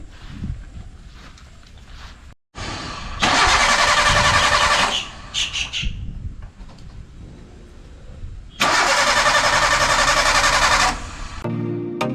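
A vehicle engine cranks and starts, its loud running bursts rising in two long stretches separated by quieter idling and brief stops, close by with no talking.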